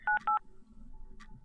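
Telephone keypad dialing tones in a horror video game set in a monster-haunted hotel: two quick clear beeps close together, then a fainter third tone, near and distinct.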